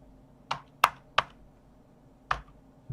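Computer keyboard keys pressed one at a time, four or five separate sharp clicks at irregular intervals over a quiet background.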